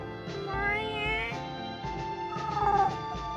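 A house cat cries out from beneath a bed, its drawn-out, wavering meows rising and falling over a steady low hum for a few seconds, close and fairly clear.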